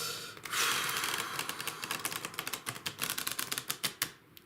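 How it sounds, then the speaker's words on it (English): Tarot cards being shuffled by hand give off a quick, dense run of crisp riffling clicks and flutters that carry on for several seconds, close and clear, with no talking. "every time I hear the shuffle of the cards"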